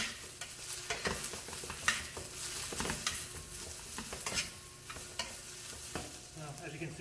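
Diced garlic and vegetables sauté in a hot pan while being stirred: a steady, close sizzle runs throughout, broken by repeated scraping stir strokes and light utensil knocks, with no talking.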